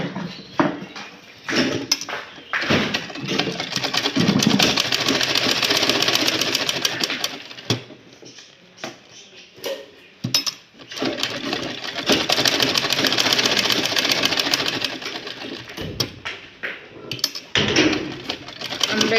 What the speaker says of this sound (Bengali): আমরা এটা চারিদিকে সেলাই করে নিচ্ছি।